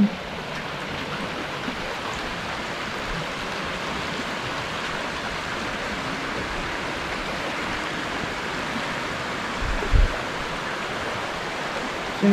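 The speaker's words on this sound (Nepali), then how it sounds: "इत्राम खोला बढेर यस्तो भएको छ।" A swollen Itram stream in Bulbule, Surkhet, rushes after continuous rain, giving a steady broadband roar of water that holds constant throughout, with one brief thump near the end.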